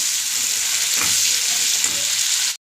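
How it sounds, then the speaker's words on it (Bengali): Tomato, salt and spices fry hard in a pan, a loud, dense, continuous close sizzle with faint stirring underneath that cuts off abruptly. "এবার একটুখানি ভালো মতো কষিয়ে নিই জিনিসটা"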